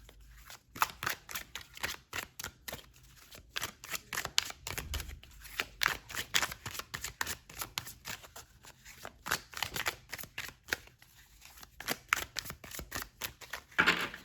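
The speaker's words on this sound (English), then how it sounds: "So I want to pull some more cards." Tarot cards shuffled by hand, a close, quiet series of rapid papery snaps and slides repeating in irregular bursts, with no voices.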